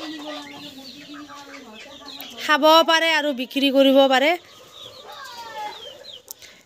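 Chickens on a home farm cluck and call loudly in a couple of strong bursts midway, while someone talks nearby over the flock.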